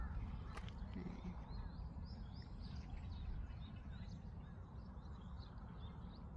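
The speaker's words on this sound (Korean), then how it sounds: "새소리가 장난 아니네요." Birds sing in the wooded hills surrounding an apartment complex, with scattered chirps and calls sounding faint and distant over a steady low rumble of background noise.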